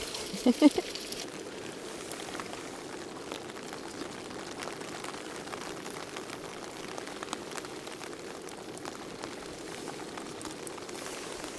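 Steady rain patters on a tent and tarp at a campsite, a dense, even hiss of drops continuing throughout with a few brief louder knocks near the start; no talking.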